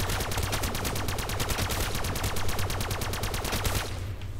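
Mac-10 submachine gun firing in a Minecraft zombies video game, one loud, very fast, steady automatic burst of closely spaced shots for about four seconds before cutting off, no talk.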